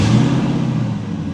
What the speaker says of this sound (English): So now that we got it idling good